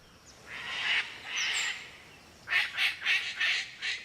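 A palm cockatoo in rainforest gives harsh squawking calls: two drawn-out screeches, then a rhythmic series of five or six shorter squawks, moderately distant and alone.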